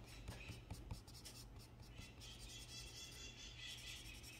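A pen held flat fills in a painted landscape drawing on paper, giving faint, steady scratchy strokes against quiet room hiss.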